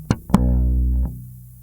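Bass guitar playing a bar of a song with thumb slaps and plucked ghost notes: two sharp attacks, then a long sustained low note that stops around the one-second mark and leaves a fading tail, played alone.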